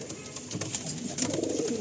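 Pigeons cooing inside a small loft of tournament-quality birds, soft repeated coos over a steady ambient hiss, with no talk.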